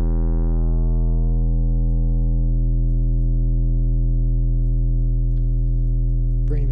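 Deep sub bass synth patch built in Massive with distortion added, a sustained buzzing low tone holding steady for several seconds with harmonics gradually thinning, ending in a brief click.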